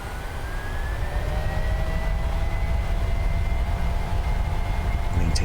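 PMDG 737-900ER jet engines spooling to takeoff thrust in MSFS 2020, a loud, steady roar with rising turbine whine tones sustained throughout, no voices.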